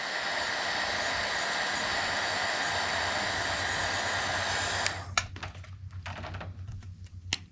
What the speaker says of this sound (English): I'm going to dry this so that I can tap those dots